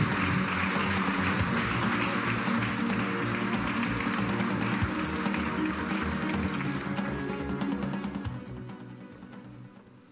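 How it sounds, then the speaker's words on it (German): Audience applause welcoming four speakers onto the stage at an international tax audit forum, a dense steady wash of many hands clapping that holds for about eight seconds before thinning and fading out. "bitte begrüßen Sie mit einem herzlichen Applaus Gerhard Gierlich, Siegfried Müller, Holger Engelke und Manfred Naumann"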